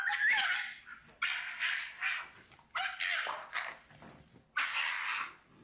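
A dog wearing a regular shock collar yelps and whimpers in a string of high, strained cries, about five distinct outbursts with brief gaps, close and fairly loud, with no talk over them.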